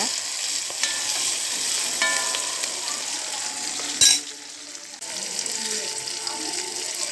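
Onions, curry leaves and tomato sauté in hot oil for a fenugreek curry, giving a steady close sizzle broken by scraping stirs and a sharp clatter midway, then softer frying.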